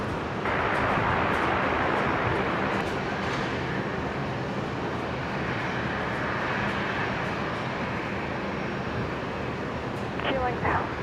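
At Brisbane Airport, an airliner taking off gives a broad, sustained roar that swells and holds, with radio and voice chatter over it.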